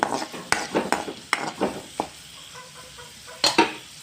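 Fenugreek and chana dal fry in oil in a kadai, a soft sizzle beneath sharp metallic clinks and scrapes of a spoon striking the pan in irregular bursts, close and fairly quiet.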